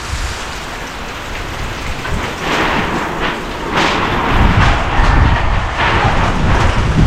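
Typhoon Kristine brings heavy rain that roars steadily with gusting surges and low rumbling thunder booms, loud and close, with no voices.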